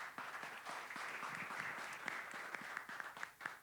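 An audience at an entrepreneurs' community event applauds for a speaker named Michael, a steady wash of many hands clapping that fills the room throughout, close and even with no voices on top.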